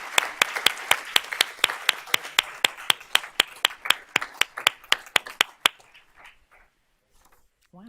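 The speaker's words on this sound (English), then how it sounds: "So let's give them all a round of applause." An audience at a school board of trustees meeting claps for students' awards in a sharp, rhythmic burst of about twenty claps that fades out near the end, leaving quiet with a faint murmur.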